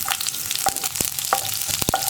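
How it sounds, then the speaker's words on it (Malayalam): Sliced onion rounds hit hot oil with popped mustard seeds while tempering a thattukada-style coconut chutney, giving a steady close sizzle broken by several sharp pops and crackles. "ആ ഉള്ളി റൗണ്ടിൽ കട്ട് ചെയ്തിട്ട് അത് ഈ എണ്ണയിലേക്ക് ചേർത്ത് കൊടുക്കാം"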